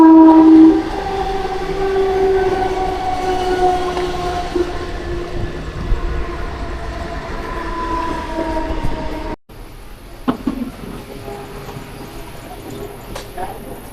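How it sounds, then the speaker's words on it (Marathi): A Mumbai local train rolls past close by, its steady rumble and wheel noise continuing for about nine seconds before a sudden cut to quieter ambient sound with a few knocks. "बघा ट्रेन."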